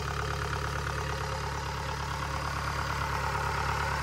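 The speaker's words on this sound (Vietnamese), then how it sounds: "Máy zin êm ru luôn nhá." The original engine of a Thai-built Kubota DC70 combine harvester idles smoothly, giving a steady, even drone with no breaks or surges throughout.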